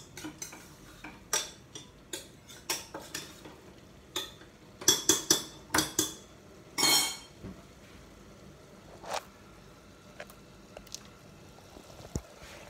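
A spoon scrapes and clinks against a pot while cabbage curry with chana dal, red chili powder and garam masala is mixed, giving uneven bursts of metallic stirring, some clustered and some spaced apart, with no talk.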